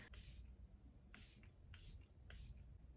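Four quick, close hissing bursts of a makeup setting spray misting onto a face, spaced irregularly with brief pauses between them, faint overall.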